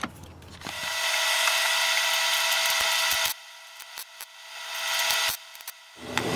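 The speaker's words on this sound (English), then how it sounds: "So then just fire up the welder" A welder tack-welds a T-nut onto a car door, producing a steady, harsh electric buzzing that runs for a few seconds, breaks off, then returns in a shorter burst among scattered clicks.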